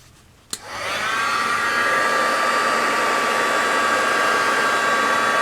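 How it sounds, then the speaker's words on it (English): A handheld heat gun clicks on and then blows a steady, loud roar of hot air, used to melt and shape material for a miniature boating shack and boat model, sustained close-up with no talking. "Because I can get my heat gun out. Look what happens."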